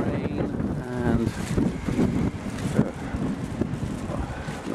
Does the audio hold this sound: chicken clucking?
no